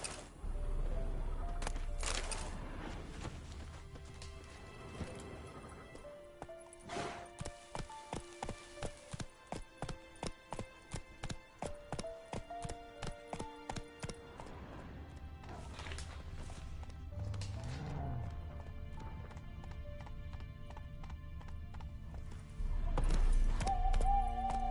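In The Witcher 3, Eskel's horse Scorpion clip-clops with a run of steady, evenly spaced hoof strikes, among crashes and thuds from the game.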